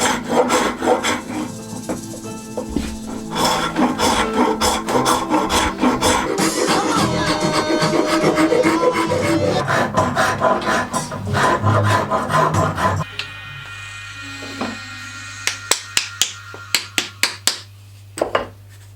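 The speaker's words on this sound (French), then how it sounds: "Maintenant, sculpter la poignée, c'est de la rigolade." A wooden handle for a cooper's axe being carved by hand, close rhythmic rasping and scraping strokes that run steadily, then give way to a low hum and a series of sharp separate knocks.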